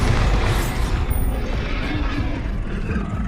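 Explosive Bombarda blasts from Hogwarts Legacy gameplay, a dense continuous boom-heavy barrage with crackling impacts that stays loud throughout, with no gaps or voices.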